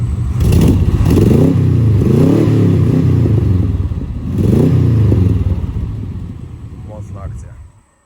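A loud car engine revs hard in repeated surges, roaring and then easing off, the rumble fading away toward the end.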